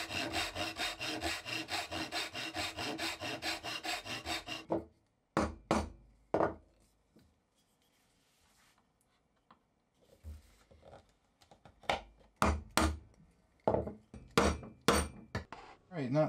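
Hand saw cutting dovetails in wood on a bench vise, a steady rapid back-and-forth rasp for several seconds, then scattered knocks and short scraping strokes after a near-silent pause.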